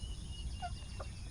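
Backyard chickens being fed give two short, faint clucks over a low background rumble.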